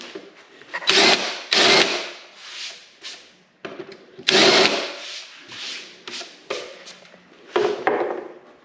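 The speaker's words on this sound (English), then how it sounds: "right now we're gonna do the last couple of screws" A power tool drives the last few screws into a mudroom bench during a laundry room remodel, sounding as loud, close whirring bursts about a second long, repeated several times with short pauses between them.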